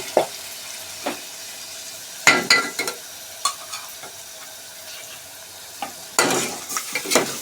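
Ginger paste goes into a hot pan for a Telugu prawn and mango curry, with scattered bursts of sizzling and scraping stirs, sharp clustered crackles between quieter gaps.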